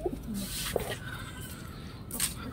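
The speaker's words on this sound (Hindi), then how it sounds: "ये हमारे जो है नीली कबूतर का बच्चा" Soft, low cooing from a blue pigeon chick, a few brief calls spaced apart, close but quiet over faint background hiss, on a rooftop.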